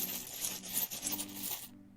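Board game tokens being shuffled by hand, a quiet, close clatter of small pieces rattling and clicking together for about two seconds before stopping.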